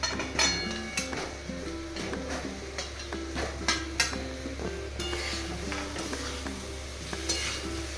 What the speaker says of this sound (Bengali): মশলার সাথে আলুগুলোকে ভালো করে মিশিয়ে নিলাম।